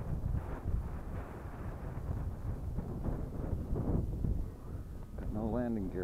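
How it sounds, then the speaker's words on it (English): Cold wind buffets the microphone at an RC model plane flying field, a steady loud low rumble and roar throughout, with a voice speaking under it. "Whoa, that wind is cold."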